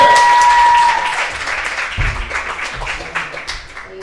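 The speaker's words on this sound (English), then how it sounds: "Let me get a round of applause for Amir." Loud crowd applause for a comedian at a live poetry and comedy show in a venue, strongest at first and then thinning into scattered claps and cheers as it gradually fades out.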